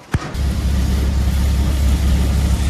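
A tempo truck's engine rumbles steadily and loudly as it drives off during a Ganesh visarjan outing in Kanjur, a brief bump at the start giving way to a continuous low drone with no talk.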